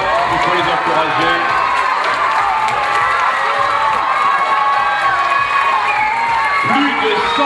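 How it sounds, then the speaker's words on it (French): An audience at a Miss Petite de France beauty pageant applauds and cheers the contestants, a loud dense crowd roar with whoops and high shouts sustained from start to finish. "Ah, les applaudissements, soyez sympas, il faut les encourager."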